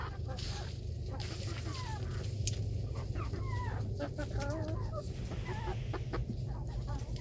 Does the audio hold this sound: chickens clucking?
yes